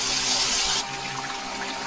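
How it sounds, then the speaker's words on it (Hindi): Water poured into a chicken karahi curry, a brief rushing splash that stops partway through and leaves a softer background hiss, with no voices. "तो अभी इसमें ना थोड़ा सा पानी डाल लेते हैं।"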